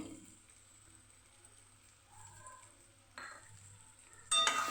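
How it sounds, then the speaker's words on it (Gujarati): Spiced boiled potatoes sprinkled with black salt are tossed and mixed for a snack. The soft, faint stirring and scraping builds slightly toward the end, ending in a brief louder rustle. "સરસ આપણે મિક્સ કરી દઈશું"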